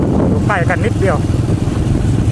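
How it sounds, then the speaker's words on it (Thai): A motorcycle is ridden with its engine droning steadily and close throughout, while someone briefly talks over the motor. "มอเตอร์ไซค์คือขับง่ายจอดง่ายนะครับซอกแซก"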